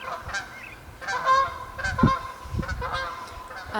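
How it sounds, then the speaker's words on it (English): Geese honk repeatedly outdoors, several overlapping calls at moderate distance over a noisy background. "you hear those birds"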